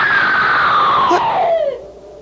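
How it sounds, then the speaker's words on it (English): A long, loud, high-pitched scream that slides downward in pitch and breaks off, a sound effect in a 1970s mystery radio drama, heard alone. "Someone screamed."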